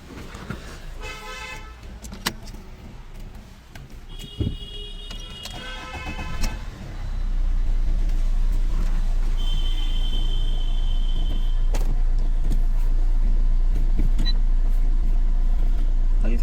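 Fiat Grande Punto engine starting after a clutch replacement, catching after a few seconds and then settling into a steady, loud idle drone close by.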